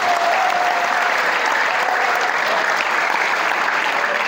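Dense, steady applause from a large audience, loud and continuous throughout with no pause.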